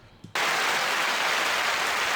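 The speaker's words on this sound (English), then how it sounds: "Thank you for the round of applause" A round of applause sound bite bursts in loud and dense after a brief quiet moment, sustained clapping continuing steadily to the end during a gaming podcast intro.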